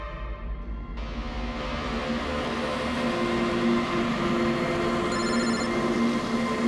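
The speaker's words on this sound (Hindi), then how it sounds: "कब से लैंडलाइन पे फोन कर रहा हूँ सर, फोन ही नहीं उठा रहे।" A landline telephone rings with a steady electronic trill over a constant hiss of background noise, moderately loud and alone.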